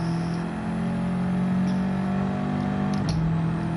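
Car engine in Gran Turismo 7 during a manufacturer race, a steady droning rev held at constant pitch with a brief dip near the end, loud and continuous with no talk.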